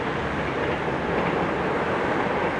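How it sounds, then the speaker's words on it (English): Train passing below an 11th-floor apartment walkway in Nakatsu, Japan, a dense continuous roar of rolling wheels and rushing noise, loud and steady throughout. "There goes the train."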